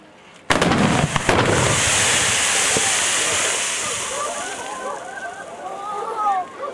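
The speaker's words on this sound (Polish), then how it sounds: "w tym momencie kolega Kamil pokaże Wam, co się stanie, jak się wleje wodę do gorącego oleju." Water poured into hot oil bursts into a sudden loud whooshing roar that holds steady, then settles into crackling, spitting sizzle as the flare dies down.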